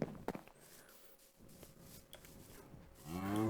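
Farm cattle in a video game moo near the end, one long rising low call that grows loud, after a stretch of soft thuds, clicks and faint ambient noise.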